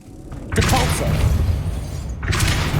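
Depulso force spell cast in Hogwarts Legacy on PS5: a sudden loud whooshing burst with a heavy thud, sustained rumbling impact, then a second bright burst near the end.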